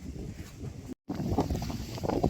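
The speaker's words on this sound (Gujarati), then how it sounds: "એટલો પવન હે" Steady wind over a cotton field buffets the microphone in low, rumbling gusts, briefly cutting out and then returning just as strong.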